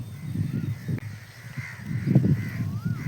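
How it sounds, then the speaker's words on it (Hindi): Many crows near farm fields caw in the distance under a steady low rumble of outdoor background noise, with no talk. "और वहाँ पर बहुत सारे कौवे हैं"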